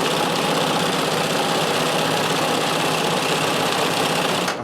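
A vintage sewing machine running a stretch stitch cam, its motor humming at an even, loud, close whir with a fast rhythmic needle chatter, stopping abruptly at the end, no voices.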